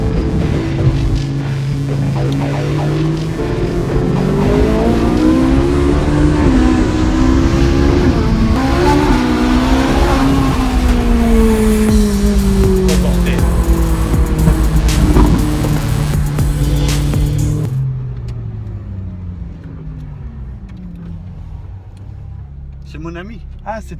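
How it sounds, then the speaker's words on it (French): A Porsche accelerating hard in an informal street race, its loud engine note climbing and surging through the gears nearby before dropping away to quieter road noise. "Une Porsche là. Il veut faire la course, je crois."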